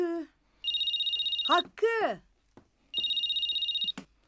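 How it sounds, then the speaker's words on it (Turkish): A telephone rings in a Turkish TV film, two bursts of electronic trilling separated by a voice calling out between them. "Telefonun çalıyor bak."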